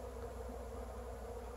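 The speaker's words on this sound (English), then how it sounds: "bees were coming in and out of the entrance" Honey bees buzz steadily around a hive entrance during a deep hive inspection, a continuous close drone with no talking.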